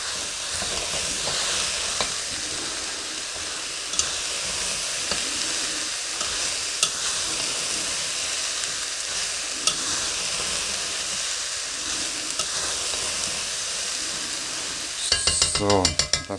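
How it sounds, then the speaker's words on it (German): Vegetables frying and being stirred in a pan for a white cabbage and tofu skillet, a steady loud sizzle with no talk, sharper clattering stirring noises near the end. "So, lassen wir jetzt anbraten."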